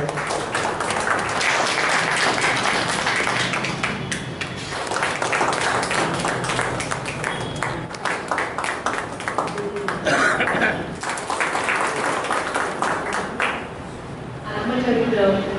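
An audience gives a guest doctor a warm welcome, with sustained clapping of a hall crowd, steady and moderately loud, along with some voices, before the applause tapers off near the end.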